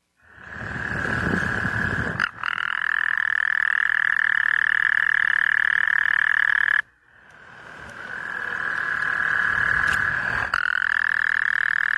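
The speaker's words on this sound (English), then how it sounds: "This is just a clip of a bunch of frogs croaking." A chorus of many frogs croaking loudly and continuously, a dense buzzing drone that cuts off briefly midway, then swells back up and carries on.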